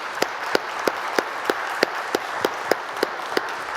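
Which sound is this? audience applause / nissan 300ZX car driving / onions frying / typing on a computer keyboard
audience applause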